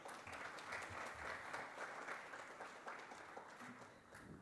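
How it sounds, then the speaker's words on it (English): An audience at a conference bursts into a round of applause, a dense, even patter of many hands clapping that carries on steadily from a moderate distance in a large hall. "I think she deserves a good round of applause."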